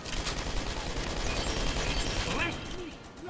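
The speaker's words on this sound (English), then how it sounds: "Oh, the turret is doing a good job." A turret in the Toy Soldiers War Chest video game fires in rapid, continuous bursts, dense gunfire rattling steadily with explosions mixed in, and a voice talks briefly over the battle.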